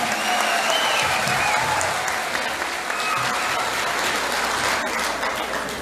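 A concert audience gives steady, dense applause that fills the whole stretch, with faint cheers and voices mixed in.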